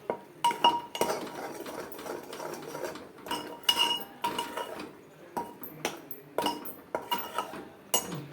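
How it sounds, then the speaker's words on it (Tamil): Spicy onion thokku being stirred in a pan, a run of irregular metallic scrapes and clinks of a spoon against the pan, close and fairly loud with short pauses between strokes and no talk. "இது எல்லாத்தையும் போட்டு நல்லா அதை கலரணும்"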